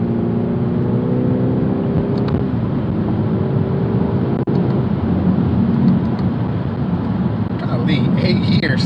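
A BMW 430i F36 engine pulling hard after a downshift, a loud sustained rising drone with a steady whirring tone, heard from inside the car with a voice talking over it.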